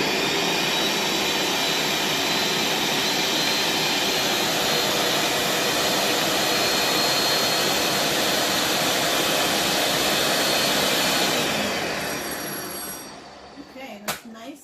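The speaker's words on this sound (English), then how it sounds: "of course we're going to have some noise, because I love blenders" Blender whirring steadily and loud while pureeing carrot soup, a dense continuous roar for about twelve seconds before winding down and stopping, followed by faint clatter.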